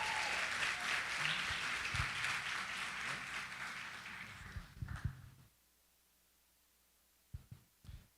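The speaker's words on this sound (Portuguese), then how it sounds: "E eu queria que vocês aplaudissem eles" A congregation at a church service claps in a loud, dense burst of applause that fades out, followed by near silence with a few scattered knocks.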